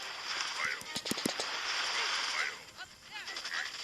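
Machine gun fire in a war video game, rapid bursts of shots over a dense, noisy battle backdrop, fairly loud and continuous.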